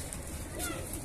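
Highflier pigeons of the fulsare, kalpare and kaldume types coo softly amid a busy, noisy background, with a faint rounded call rising and falling once in the brief moment.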